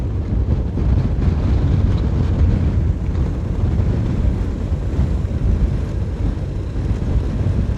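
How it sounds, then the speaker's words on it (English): Steady wind buffets the microphone during a road bicycle race at a national championship, a constant low roaring rush with no voices. "Man, feel the headwind."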